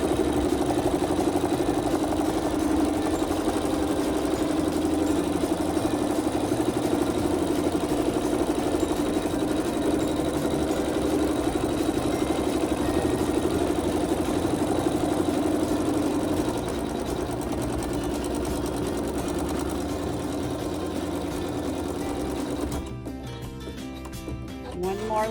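A Navigator embroidery sewing machine stitches lines across fabric with a steady, fast mechanical hum and buzzing vibration that runs continuously, then drops and stops near the end.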